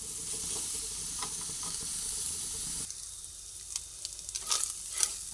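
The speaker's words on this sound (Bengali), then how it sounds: "ভালোভাবে নাড়াচাড়া করতে করতে চিকেনটা ভেজে নিলাম" Chicken frying in a pan with onion, garlic, ginger and spices, giving a steady hiss of sizzling that softens midway, then small scrapes and clicks of stirring near the end.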